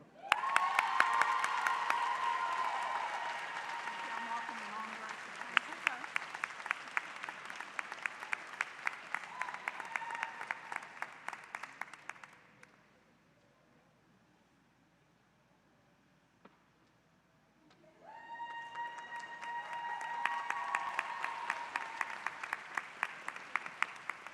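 An audience applauds loudly at a nurses' pinning ceremony. Sustained crowd clapping with cheers fades into near silence halfway through, then a second burst of vigorous applause rises again. A voice speaks over it at points.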